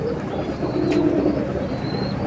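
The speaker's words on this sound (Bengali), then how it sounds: "এটা একটা পিওর টেরি কবুতর।" A pure Teddy pigeon, a high-flyer breed, coos close by in a low, steady murmur. Faint chirps and ambient noise sit underneath.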